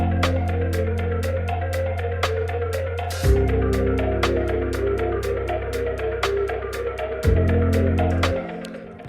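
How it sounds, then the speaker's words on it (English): Shop music from the video game Rodent Retribution: a steady, loud musical loop with crisp repeating percussion ticks over sustained harmonic tones and a bass line that shifts twice, playing alone throughout. "So this is the shop music."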